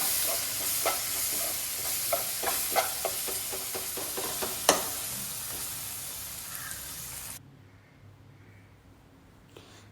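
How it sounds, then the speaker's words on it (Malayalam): Spices, turmeric and garam masala, are stirred in a sizzling pan for a curry paste, with a spoon scraping and clinking in irregular strokes over steady frying for about seven seconds before it goes quiet. "നന്നായിട്ട് നമുക്കൊന്ന് ഇളക്കി യോജിപ്പിച്ച് കൊടുക്കാം"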